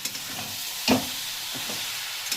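Carrot halwa is sautéed with sugar and salt in a pan. A soft background sizzle sits under one brief, distinct scrape of stirring near the middle and a faint second one at the end.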